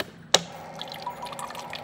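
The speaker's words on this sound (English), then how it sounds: "The next section is filling the bottle with water," Cold water runs from a tap into a Sodastream bottle, a sharp knock at the start followed by a steady, soft splashing and trickling fill, heard alone.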